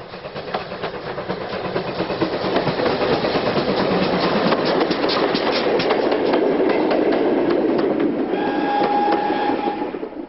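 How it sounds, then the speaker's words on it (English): A demonstration milk train with two six-wheeled tank wagons and a passenger brake van rumbles past, steady rhythmic clattering over rail joints, close and loud, a thin metallic squeal rising near the end. "on a demonstration milk train, two six-wheeled tank wagons and a passenger brake."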